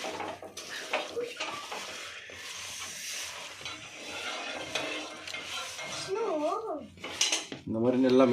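A spoon scrapes and clinks against a bowl while marinated soya is mixed, giving an irregular run of close metallic taps and stirs with some background kitchen noise.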